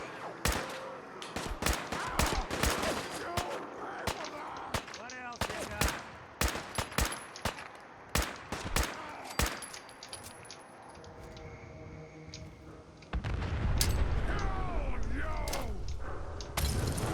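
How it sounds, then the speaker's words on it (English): Fallout Commonwealth video game combat with a super mutant: rapid bursts of gunfire with sharp cracks and booms, thinning out before a louder rumbling explosion-like roar takes over near the end. "I keep hearing explosions"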